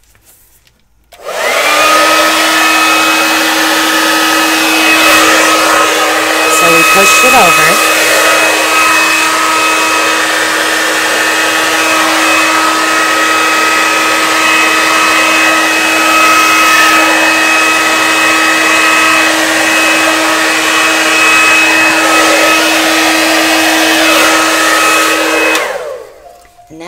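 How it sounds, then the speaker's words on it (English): A hair dryer on its cool setting blows steadily across a Dutch pour acrylic painting, a loud, close, unbroken whirring hum with a constant tone that runs for nearly half a minute, with brief talk over it. "I'm going to use the hair dryer. This is on a cool setting."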